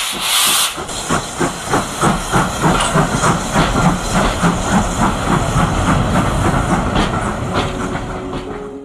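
Ivatt tank steam locomotive 41313 at a railway gala in Norfolk, close and loud: a burst of hissing steam, then rhythmic chuffing exhaust beats as it works, with clanking motion and steady steam hiss throughout.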